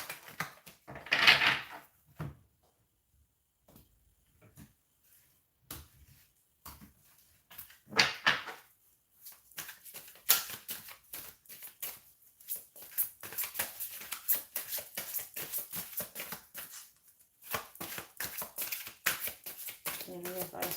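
Tarot cards being shuffled in brief riffling bursts, close up, with a voice talking intermittently around them.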